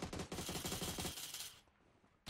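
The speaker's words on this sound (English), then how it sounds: "He just shot you." Rapid bursts of automatic gunfire in the battle-royale game PUBG, loud and close in quick volleys for over a second, then fading to a quieter tail before one more sharp shot.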